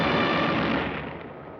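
Battle gunfire at San Pietro in Italy, U.S. Army troops under frontal and flanking fire from German positions: a loud, dense burst of shots and rumbling blasts that fades slightly over a second and a half.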